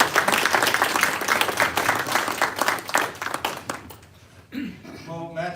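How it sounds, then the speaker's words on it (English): A crowd at an anniversary dinner reception applauds loudly and steadily for several seconds, the applause fading out and a voice starting to speak near the end. "A round of applause for him."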